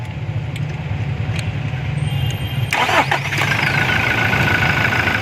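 A Toyota Hilux with an intermittent clicking starter cranks and fires, a steady engine hum running before a burst of starter noise and the engine catching into a louder running roar, close and alone.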